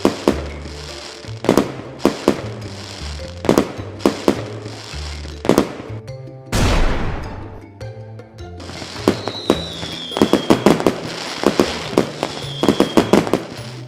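Firecrackers go off in rapid, loud bangs, with one drawn-out hissing burst in the middle before the popping resumes in dense volleys.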